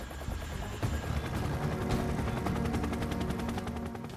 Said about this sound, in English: Tapper lifts off in the new Chinook for the first of the day's missions